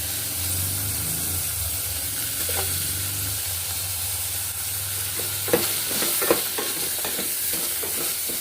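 Ginger goes into a pot with a little extra virgin olive oil and is stirred for a soupy vegetable dish, a loud steady sizzle and hiss with a few sharper stirring scrapes toward the end.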